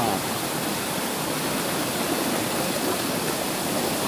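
A mountain stream runs over rocks and down small waterfalls in a forest. The rushing water makes a dense, steady, even roar that fills the scene at close range.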